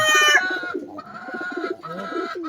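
Young pigeon cooing close by, a few soft, throaty warbling calls in quick succession with brief pauses between them.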